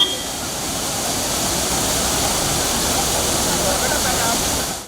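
A roadside waterfall beside the national highway on the tourist route to Munnar in Idukki: a steady, dense roar of falling water, loud and unbroken throughout.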